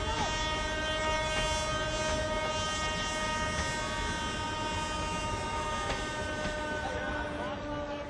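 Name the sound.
train at a local train station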